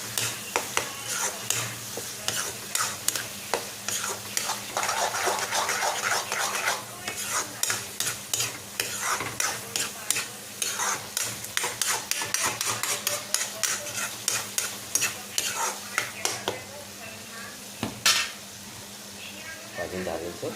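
Spices frying and being stirred in a pan for Manipuri fish curry, with repeated scraping strokes of a utensil over steady sizzle, close and fairly loud; a voice speaks at times.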